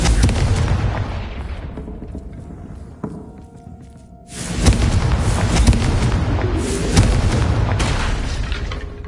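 Confringo blasting spell in the Hogwarts Legacy video game, booming explosive bursts with a roaring tail, then a brief lull and another series of loud crackling blasts.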